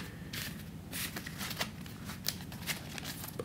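Tarot cards being shuffled by hand, soft riffling and papery slides in short irregular bursts, close and quiet with no talking.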